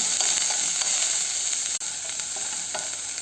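Chopped green chili, ginger and onion sizzle steadily in a hot pan, a constant close frying hiss with faint scraping from stirring and one brief dropout midway.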